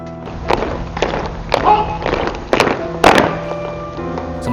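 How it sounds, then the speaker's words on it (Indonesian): Ceremonial gun salute fired from the gates of Edinburgh Castle, a series of six sharp booming shots at roughly half-second to one-second intervals, fairly close and loud, with a steady hum underneath. "pasukan melepaskan 96 tembakan dari pintu gerbang Kastil Edinburgh"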